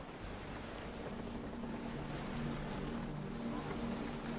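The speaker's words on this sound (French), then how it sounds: "Le vent a forci." Steady wind and rolling ocean swell wash past a sailing ship at sea in the video game Assassin's Creed Black Flag, a continuous soft roar without speech.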